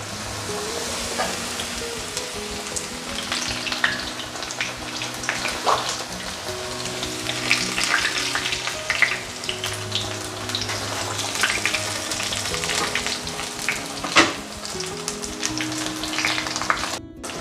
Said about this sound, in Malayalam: തുടച്ച് വെച്ചിരിക്കുന്ന കടച്ചക്കയുടെ പീസസ് ഓരോന്നായിട്ട് ഈ ബജി മാവിൽ മുക്കി നമുക്ക് എണ്ണയിലേക്ക് ഇട്ട് കൊടുക്കാം